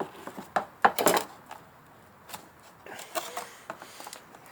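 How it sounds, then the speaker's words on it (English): Plant pot handled while pulling out a weeping willow cutting: a few sharp plastic clacks and knocks in quick succession, then softer scattered rustles and taps, close and fairly quiet. "So now, getting this one out of the pot."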